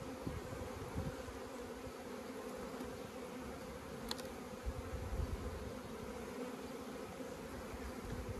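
Honeybees buzz on a beehive frame, a close, continuous droning hum that stays steady throughout, with no voices.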